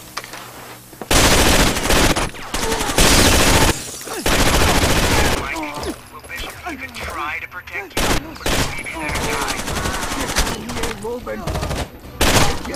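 Unsuppressed gunfire in the video game Rainbow Six Vegas 2, with loud, sustained bursts of automatic fire and dense volleys that continue through most of the stretch, broken by brief pauses.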